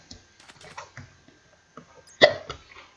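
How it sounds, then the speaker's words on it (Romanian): A single sharp hiccup from a person recording a Minecraft playthrough, one sudden loud catch near the end standing out against quiet room sounds and faint scattered taps. "Fix acum când filmez, sughiț."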